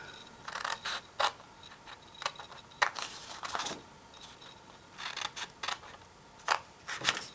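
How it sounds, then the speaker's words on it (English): Scissors snip through scored paper for a holiday gift box in a series of short, close cuts, coming in uneven clusters with brief pauses between them. "you are going to cut up these, cut from the bottom up to the first score"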